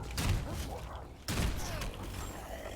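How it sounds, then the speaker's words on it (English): Gunfire during a battle royale match in the Evil Dead video game, two loud bursts of shots roughly a second apart with a steady rumble between them and faint talk underneath. "I'm getting shot at by someone else as well."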